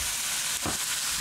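Pork chops sizzle in a pan with a loud, steady hiss and a brief surge of bubbling midway, close up, with no voices.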